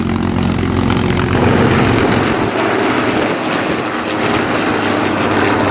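A vintage biplane with engines turning two-bladed, fixed-pitch wooden propellers flies past at an air show, a loud continuous propeller drone that shifts in tone as it passes, heard alone.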